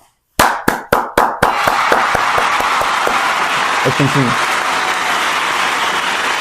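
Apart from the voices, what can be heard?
audience round of applause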